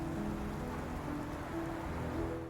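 Steady, dense rain falls in the video game Love and Deepspace, a soft continuous patter with a faint tonal layer underneath and no speech.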